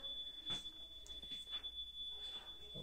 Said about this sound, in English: We're gonna have to figure out how to turn the fire alarm off.